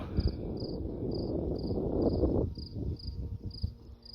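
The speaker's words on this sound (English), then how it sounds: "That's a cricket." A cricket chirps at night in a regular pulsing rhythm of short high trills, steady and moderately clear, over low rustling and muffled movement nearby.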